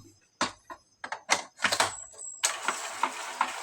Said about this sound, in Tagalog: nag-head clean na siya guys